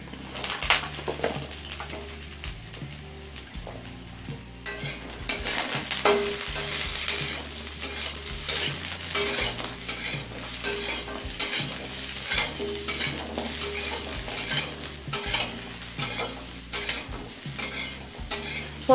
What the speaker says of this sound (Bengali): পটলটা দিয়েও মিনিট 5 ভেজে নিয়েছি।